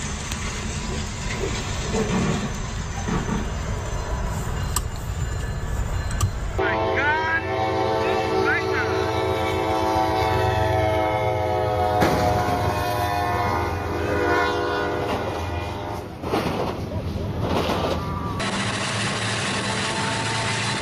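A Canadian National diesel locomotive rumbles past with heavy rail noise, then its train horn blares in a long, loud, sustained chord over continuing engine roar, heard from trackside with voices nearby.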